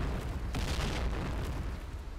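A loud, rumbling grenade explosion in the game Point Blank, with a sharp burst followed by a sustained roar of debris and noise, filling the whole clip.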